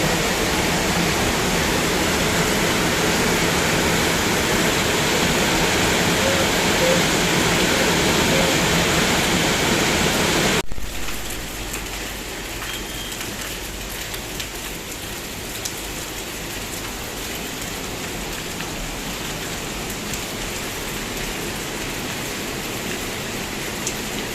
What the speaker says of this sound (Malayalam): മഴയുടെ ശക്തി കൂടി വരുന്നത് കണ്ടോ